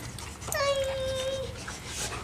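A Lab-Husky mix dog gives one drawn-out high whimper, with faint panting and soft rustling around it, close by and with no talk.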